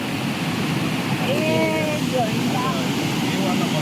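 River water rushes down over rocks near an unmapped waterfall in the rain, a loud, continuous broadband roar that fills the whole stretch, with a voice faintly audible underneath.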